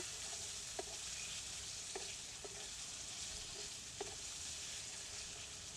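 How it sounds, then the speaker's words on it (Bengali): Masala frying and sizzling in oil for a katla fish curry, a steady close hiss broken by a few soft stirring clicks, with no voices. "মশলাটা একটু ভালো করে কষাতে হবে যেহেতু মশলার গা থেকে তেল ছেড়ে দেয়"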